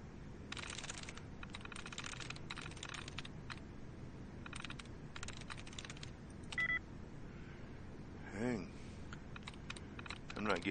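Rapid clattering keyboard typing while hacking a terminal in Fallout 4, bursts of fast key presses with short pauses, followed by a few electronic beeps and terminal tones near the end.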